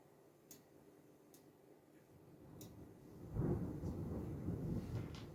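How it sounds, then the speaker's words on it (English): Thunder from the first storm of spring rolls in as a low, distant rumble that swells and lingers, preceded by a few faint ticking clicks in an otherwise quiet room. "Thunder."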